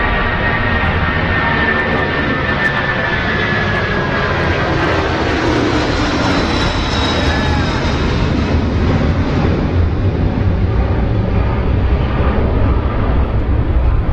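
A Boeing 747 passes close at London Heathrow, its engines a loud, sustained roar with whining tones that slowly shift in pitch as it goes by.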